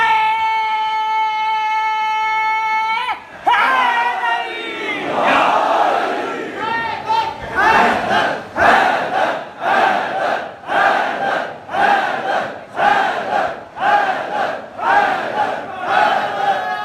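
A crowd at a Shia majlis mourning gathering chants a slogan, opening with one sustained voice before massed voices answer in steady rhythmic shouted bursts, loud and continuous throughout.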